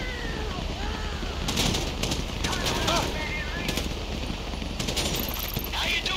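Bursts of automatic gunfire from Grand Theft Auto 5 during a heist mission, rapid crackling volleys that come and go over a dense, steady wash of game noise and ambience.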